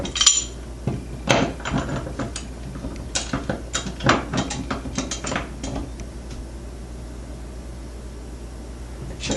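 A nut under a Delta single-lever kitchen faucet with spray hose is tightened a quarter turn, giving close, irregular metallic ratcheting clicks and clunks that thin out toward the end, with no talking.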